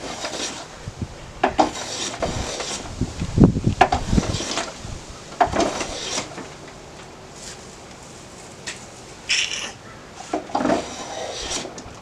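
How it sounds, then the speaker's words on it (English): A Veritas block plane shaves across a piece of wood in a planing test, making a string of close, rasping strokes with uneven scraping bursts and quieter gaps between passes. "That's the planing test"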